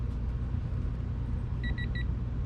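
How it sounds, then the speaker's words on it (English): A torque wrench set to 31 gives three quick, clear beeps as it reaches the set torque during a base plate install for a tow package, heard over a steady low engine-like rumble. "I have set the torque meter for 31, so we need to hear it beeping."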